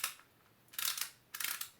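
A 1950s Brimtoy clockwork tinplate train being wound up gives two short bursts of bright ratcheting clicks, close and fairly quiet, separated by a brief pause.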